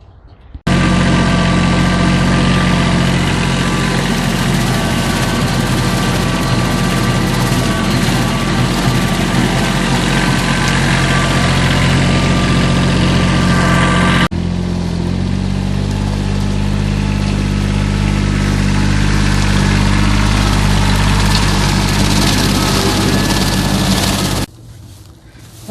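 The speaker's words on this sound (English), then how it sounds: "It's actually a rotary mower," A tractor pulling a rotary mower (brush hog) across a field in Kansas gives a loud, steady engine drone with a constant mechanical whir, shifting in tone about halfway through before cutting off near the end.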